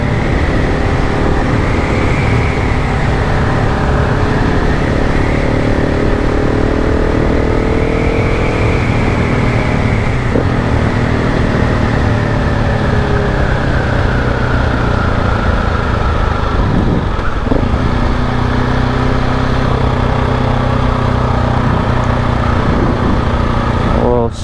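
A KTM 690 dual sport motorcycle rides a forest trail, its engine a loud, continuous close drone with rising and falling pitch over steady wind rush.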